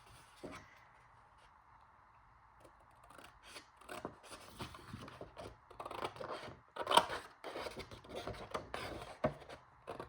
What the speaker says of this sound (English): we're just going to cut along that score line and this score line to remove this piece